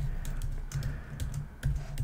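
Rapid typing on a computer keyboard during programming work, with close, clicky keystrokes in quick irregular bursts over a low background hum and no voice.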